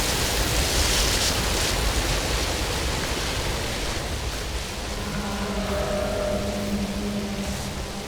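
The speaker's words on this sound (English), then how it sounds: "I like that waterfall." Steady broadband rush of a waterfall in the Outriders video game, constant and fairly loud throughout, with faint tonal game sounds drifting in toward the end.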